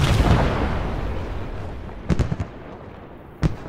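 Grenade blasts in a video game: a loud, rumbling explosion that fades out, followed by a few sharper thuds and one last distinct bang.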